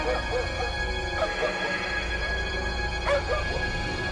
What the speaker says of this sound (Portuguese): seu cachorro começou a latir para o paiol de feno